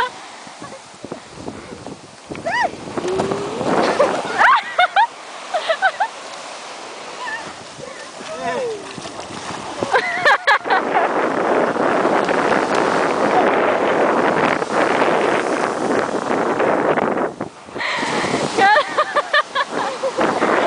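Water and surf noise at a beach in Cabo Frio, with bursts of splashing and wind buffeting the microphone while people shout and talk close by throughout.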